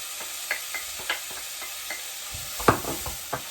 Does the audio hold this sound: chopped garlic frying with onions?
yes